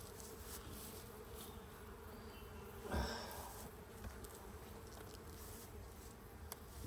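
Honey bees humming densely around an open, strong colony hive, a continuous close buzzing swarm with a brief louder burst midway.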